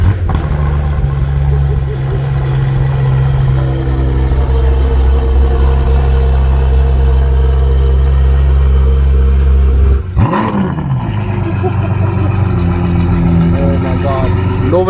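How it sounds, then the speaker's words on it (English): A Porsche GT3 RS fitted with an aftermarket Dundon exhaust runs loud and steady through a deep cold-start idle, then gives one sharp throttle blip near the end before settling back. "Let's hear this cold start on the GT3 RS."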